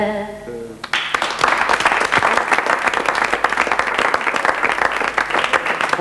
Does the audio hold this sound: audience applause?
yes